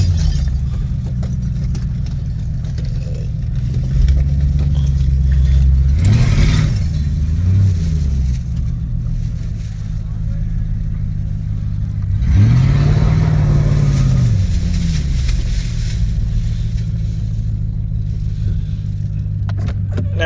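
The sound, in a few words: 1986 Lincoln Town Car engine running while driving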